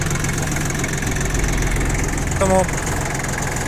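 A Yanmar FX20D compact tractor engine runs steadily at close range, a continuous droning hum that carries on beneath a man's brief speech.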